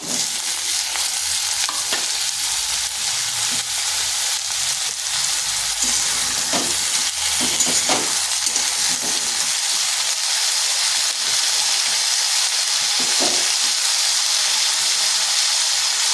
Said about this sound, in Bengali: এগুলোকে হালকা একটু ভেজে নিচ্ছি। দিয়ে দিচ্ছি আলু আর কাঁকরোলটা।